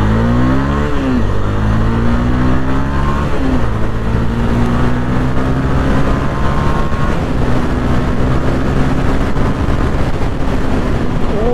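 A 2024 Honda CB300F motorcycle engine revs loud and close, its pitch rising and falling through repeated throttle blips with a thin whistling tone riding over the steady engine drone.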